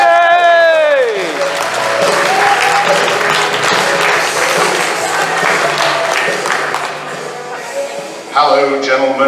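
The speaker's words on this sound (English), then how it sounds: "Give them a round of applause." A live audience applauds a comic colourist and inker, dense clapping sustained for several seconds over a fading musical chord, with voices and music returning near the end.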